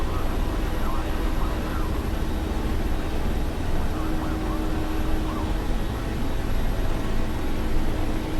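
Steady broadband aircraft engine roar from a flight video game as the plane takes off, a continuous, even drone that fills the whole stretch with a faint tonal hum running through it.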